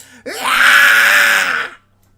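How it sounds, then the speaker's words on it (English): A bone-chilling shriek rises from the depths of a cave as a sound effect, a single loud, sustained wailing scream lasting about a second and a half before cutting off into silence. "From inside the depths of the cave, you hear a horrendous, almost bone-chilling shrieking"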